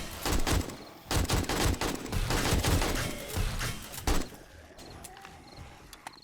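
AK rifle fire in the survival game 7 Days to Die during a horde night, loud rapid bursts of shots packed close together, thinning to a few sparse, quieter reports near the end.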